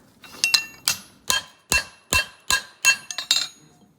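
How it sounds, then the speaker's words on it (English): A farrier hammers rubber-bonded super sound horseshoe plates: about ten sharp, ringing metallic strikes in an uneven rhythm, close and loud, with brief quiet gaps and a quick double blow near the end. "The hammer sort of bounces back off of them again."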